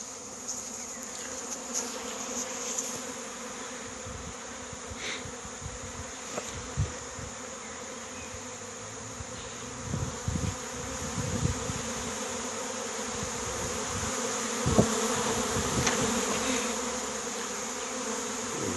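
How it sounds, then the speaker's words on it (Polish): A dense, steady drone of a swarming honeybee colony buzzing all around near a tree, with individual bees flying past closer now and then. "Jeszcze mnóstwo pszczół jest w powietrzu."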